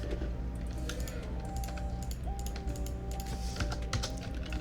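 Computer keyboard typing at a desk: a run of quick, close key clicks at an uneven pace over a steady hum of background noise, no talking.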